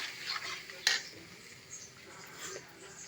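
Tomato curry stirred in a pot for vankaya (eggplant) masala, with a soft scraping of utensil against the pot and a sharp metallic clink near the start, low and close with no voices.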